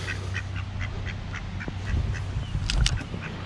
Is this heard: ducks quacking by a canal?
yes